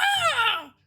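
A person imitates a cat scream with a brief, high, wavering yowl that slides downward and cuts off, close and alone.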